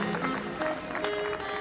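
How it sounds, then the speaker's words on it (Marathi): Audience applause at a school annual gathering in Igatpuri, Nasik district, honoring a medal winner; steady dense clapping from a crowd, fairly even in loudness throughout. "Please give him a big round of applause"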